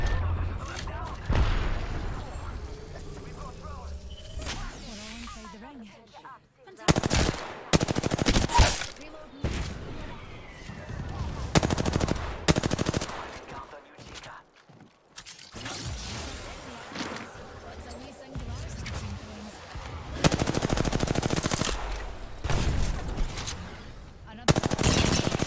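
Rapid bursts of gunfire in a first-person shooter game, with machine-gun volleys and booming shots coming in loud clusters separated by brief lulls, with a player's voice talking over parts of the action.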